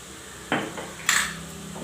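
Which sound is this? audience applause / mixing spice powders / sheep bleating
mixing spice powders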